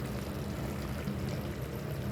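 Water being poured onto basmati rice for chicken biryani: a steady, close rushing pour with a watery trickle, continuous and alone without talk.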